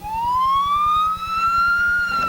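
Ambulance siren wailing loud and close, one long rising tone held steadily, with a rapid engine-like pulse throbbing underneath throughout.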